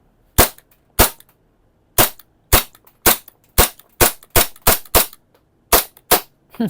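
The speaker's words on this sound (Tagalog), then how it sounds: "Okay, magazine capacity is 30 rounds. Firing." A Gen 5 pistol with a metal slide and polymer frame, loaded from a 30-round magazine, fires about fourteen sharp, loud shots in uneven bursts, some in quick pairs and some with short pauses, with no talking over them.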